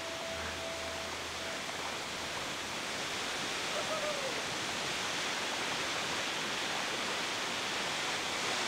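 Continuous broadband roar of a Madagascar waterfall, steady and close throughout, with a faint brief tone early on and no voices.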